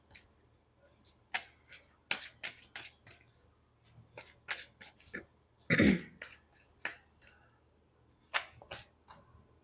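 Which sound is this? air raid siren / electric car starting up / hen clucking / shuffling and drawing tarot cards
shuffling and drawing tarot cards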